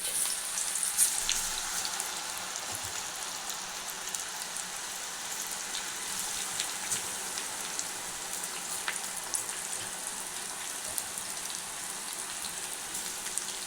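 Amaranth leaf pakodi fry in hot oil, giving a steady, dense sizzle with crackling pops throughout, close and continuous with no talking.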